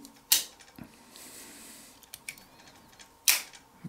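Two sharp, crisp clicks about three seconds apart as the scissors tool of a Victorinox pocket knife snaps shut, with faint handling rustle between them.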